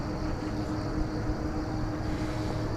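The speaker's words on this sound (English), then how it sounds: "Flight 315 is on the mark for takeoff." A passenger jet taking off at Incheon airport in Seoul, South Korea, gives off a steady, moderately loud engine roar with a low rumble underneath, heard from a distance and continuous throughout.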